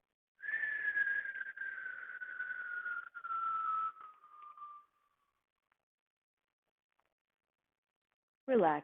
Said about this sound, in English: in and whistle it out